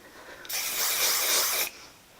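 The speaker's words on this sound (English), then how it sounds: "Take my spray," A single sustained hair spray hiss lasting about a second, loud and close, starting and stopping abruptly.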